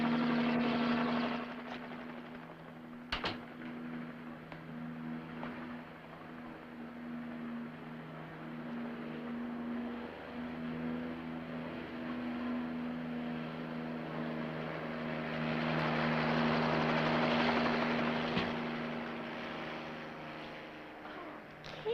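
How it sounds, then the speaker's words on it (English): A helicopter passes overhead with a steady low engine drone and rotor hum that swells louder near the end, heard alone without speech. "look, that's a helicopter."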